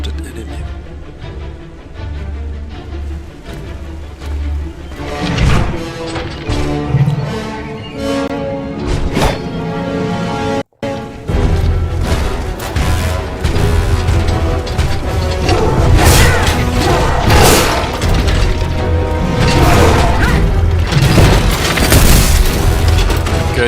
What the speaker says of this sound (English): Okay, dude's shooting.